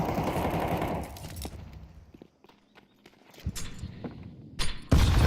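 Rapid gunfire bursts from a Counter-Strike esports match at IEM Krakow, sharp cracks scattered through the clip with a loud volley at the end, alongside quieter footsteps and shuffling.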